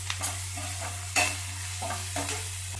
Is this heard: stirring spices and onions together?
yes